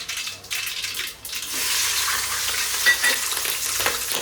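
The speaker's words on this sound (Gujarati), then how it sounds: "વઘારવાની પ્રોસેસ ચાલુ." Chillies crackle and sizzle as they are tempered in hot oil for dhokla, a steady close frying hiss that builds after a brief dip and carries on without talk.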